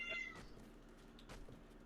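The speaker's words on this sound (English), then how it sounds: "It's a fucking loud cat." A cat yowls in two drawn-out, wavering cries, faint and a little distant over a low background hum.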